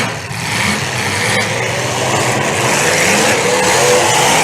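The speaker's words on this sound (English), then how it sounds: "Somebody's on the rev limiter hard." A demolition derby car engine at full throttle bouncing off the rev limiter: a loud, continuous high-revving engine roar with a rough, stuttering edge amid crowd and arena noise.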